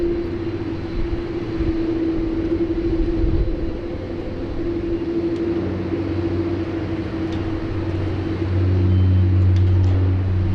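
A Qantas airliner at Sydney Airport with flaps down, a sustained droning engine hum heard from a distance, steady low rumble that swells slightly louder toward the end.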